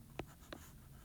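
Pencil writing on paper during a short-vowel phonics lesson: two brief, quiet scratchy strokes close by, with no talking.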